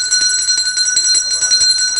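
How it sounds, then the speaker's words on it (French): Bells ring repeatedly at Saint-Pierre Catholic church, a bright sustained metallic clang with struck pulses over a steady hum of overtones, heard alongside a faint voice in the background. "Cloche là a sonné dans tous côtés."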